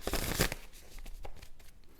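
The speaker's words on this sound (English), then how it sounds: "one more shuffle, and we will draw our first card here" Tarot cards being shuffled by hand, a quick riffling flurry at first, then softer scattered slides and taps of the deck, close and fairly quiet with no talking.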